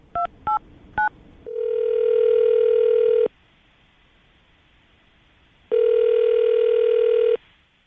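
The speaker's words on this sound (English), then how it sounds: "I'm going to dial the phone number right now" A telephone being dialed: three short touch-tone beeps, then a long steady dial or ringback tone, a stretch of near silence, and a second long tone, all loud and close with no talking.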